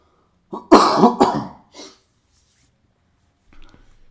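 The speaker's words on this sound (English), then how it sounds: "I am really sorry that I am constantly coughing here in front of you guys" A few harsh coughs close to the microphone in quick succession, followed by a short pause and a faint breath or throat sound.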